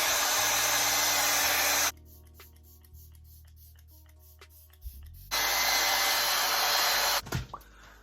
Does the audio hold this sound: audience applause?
no